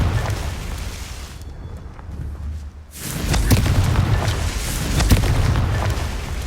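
A Confringo blasting spell in Hogwarts Legacy lands as a deep booming explosion after a short hush, followed by rumbling, crackling debris that stays loud and close.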